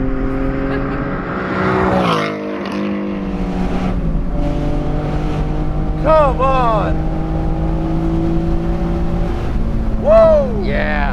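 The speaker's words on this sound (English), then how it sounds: "Wow, it revs up so much quicker." A DeMan 718 Spyder with a 565 hp naturally-aspirated 4.5L engine revs hard climbing a hill, rising and falling engine tones through gear changes, loud and close, with excited exclamations from occupants.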